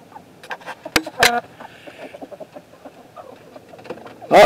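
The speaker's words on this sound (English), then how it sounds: "Oh, there's Rooster." Rooster and hens settled up on the roosts inside a chicken coop, giving soft scattered clucks and a couple of sharper calls, close by with faint rustling between them.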